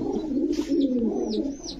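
Pigeons at a market stall coo in a low, rolling burble, a close continuous throaty call with a few faint higher chirps from other birds behind it.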